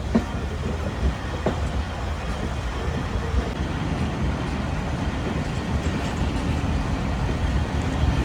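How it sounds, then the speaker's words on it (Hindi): The Khushal Khan Khattak Express rumbles into Dhabeji station with a steady, loud, broadband roar of rolling wagons and faint rail clatter. The sound stays continuous and close, with no speech. "तो दोस्तों 11:34 पर ट्रेन हमारी पहुंच रही है धाबेची रेलवे स्टेशन पर।"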